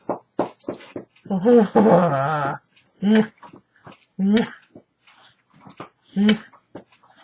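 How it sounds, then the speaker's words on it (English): A pet dog whimpers and whines while begging for kisses, drawn-out wavering cries broken by short yelps and snuffles, close by, with a person talking softly between the sounds. "You're gonna sit here and watch my dog beg for kisses."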